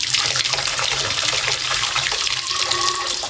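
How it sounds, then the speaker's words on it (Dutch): Water pours steadily from a luxury hotel shower, a dense continuous hiss and splash running close by, with no voices. "Dit is de douche."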